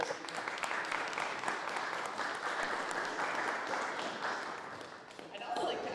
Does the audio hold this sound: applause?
yes